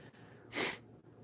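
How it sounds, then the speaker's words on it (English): A single loud sneeze bursts out mid-clip indoors while opening Japanese Chilling Reign trading card booster boxes, rising sharply and fading within about a third of a second over a quiet room. "That good deal made me sneeze."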